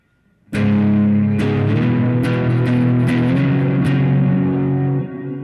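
Electric guitar played through a reverb pedal feeding a RAT distortion pedal, giving a loud, saturated, sustained tone with several struck chords and a washy, smeared tail, alone without voices.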